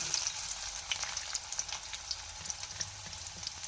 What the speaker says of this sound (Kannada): ಮತ್ತು ಉಳ್ಳಾಗಡ್ಡಿ ಹಾಕೊಬಿಡೋಣ್ರಿ